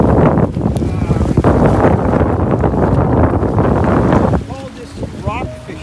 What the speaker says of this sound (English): we've come to a point and it's really windy